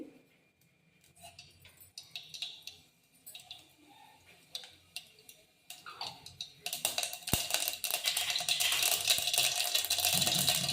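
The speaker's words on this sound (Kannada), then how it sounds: "ಸಾಸಿವೆ ಸಿಡಿತಾ ಇದೆ." Mustard seeds spluttering in hot oil in a pan while cooking a fenugreek-leaf stir-fry, starting as scattered sharp pops and ticks, then breaking into a loud, dense crackling sizzle that continues to the end.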